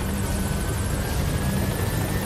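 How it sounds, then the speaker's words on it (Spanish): Helicopter in the Metal Gear Solid 5 video game, heard as a steady, dense rotor and engine drone that stays loud and constant throughout, with no voices over it. "Vale, ¿y el helicóptero qué?"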